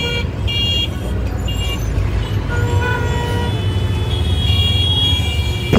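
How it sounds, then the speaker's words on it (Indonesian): Car horns honk again and again in a Delhi traffic jam: short, overlapping toots of different pitches over a steady, loud roar of engines and road noise, with no clear pause. "klakson di mana-mana, macet."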